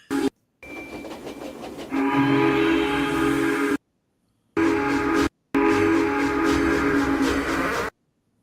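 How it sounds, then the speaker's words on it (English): A steam engine whistle sounds in long, loud, sustained blasts separated by short silent gaps, with a steady rumbling train running beneath it. "Could this mean that Timothy's innocent whistle would be Edward's whistle?"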